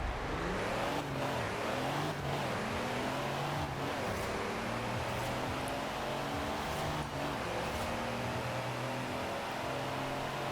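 A big drag-racing truck in Forza Horizon 4 roars hard off the launch line, its engine note loud and continuous as it revs and pulls for about ten seconds with no pause.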